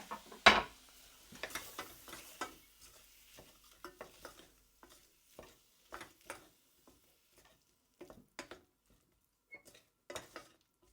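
Tomato cooks in a pot of lentil soup as a spoon scrapes and stirs in a run of soft, irregular strokes over a faint sizzle. The sound is quiet and close, with no talking.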